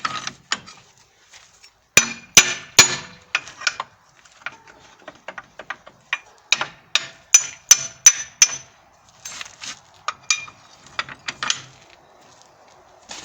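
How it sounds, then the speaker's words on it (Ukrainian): Sharp metallic taps and knocks come in irregular bursts, some quick clusters of strikes, fairly close, with quiet gaps between them and no talking. "Молоток"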